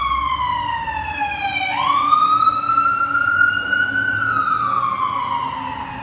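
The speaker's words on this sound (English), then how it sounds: "Pardon the sirens." Emergency vehicle sirens wail loudly as they pass, the pitch sweeping down and then rising again into a steady, sustained tone over low traffic rumble.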